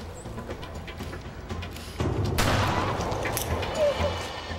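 A single gunshot rings out during an armed, masked carjacking in a suburb: a sharp, loud crack about halfway through, then a long ringing decay over a tense background.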